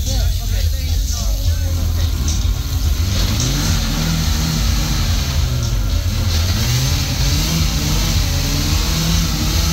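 A Ford Ranger truck's engine revs hard and steadily during a burnout, its pitch wavering as it roars close and loud throughout, with voices faintly underneath.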